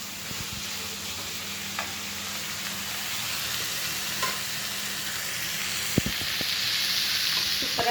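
Banana blossom stir fry (vazhaipoo poriyal) sizzles steadily in a pan while a spoon stirs it, with occasional scraping clicks over a constant hiss.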